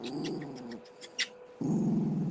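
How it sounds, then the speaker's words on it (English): A dog growls low and close in a rumbling stretch, falls quiet with a brief yip or whimper, then growls again more loudly, all within a couple of seconds. "What are you growling for?"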